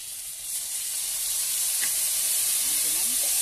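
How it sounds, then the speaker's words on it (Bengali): Fried potatoes with cumin, ginger and pepper paste sizzle in a steady, loud hiss that swells slightly, with a few faint stirring scrapes near the end. "এবার আমি দিয়ে দিলাম জিরে, আদা আর গোলমরিচ বাটা"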